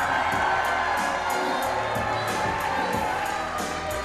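A wrestling crowd in Elk River cheering and shouting at a live show, a dense continuous roar of many voices with rhythmic chant-like pulses, loud and steady throughout.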